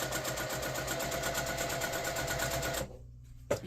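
A sewing machine stitches a seam on a table runner with a steady, fast, close mechanical whirr, then stops abruptly near the end, followed by a brief knock.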